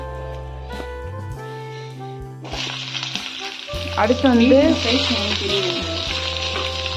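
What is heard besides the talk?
frying in ghee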